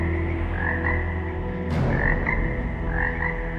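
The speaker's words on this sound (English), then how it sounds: "Next, frogs cover the land, even inside houses and beds." Frogs croak repeatedly in a noisy chorus of plague-stricken land, with steady rasping calls throughout and a brief sharp burst near the middle, no talk over them.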